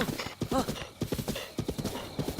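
Horse hooves clip-clop in a steady rhythm with a brief whinny, from a horse just tamed in the video game Zelda: Breath of the Wild, up close and loud with no talk.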